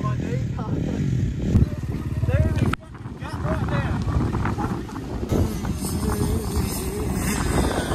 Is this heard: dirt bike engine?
yes